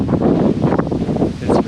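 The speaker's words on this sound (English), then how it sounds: "It's windy." Gusty outdoor wind buffets the microphone in a steady, loud roar with a few stronger surges, no voices present.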